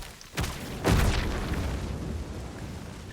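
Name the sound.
explosion in video game Dragon's Dogma II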